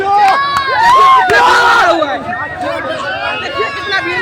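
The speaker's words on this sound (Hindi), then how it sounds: "देखिए कितना भीड़ लगा हुआ है" Large crowd gathered outside Beur jail, many overlapping voices shouting and chattering loudly and close by, with sharp cries and a burst of cheering early on.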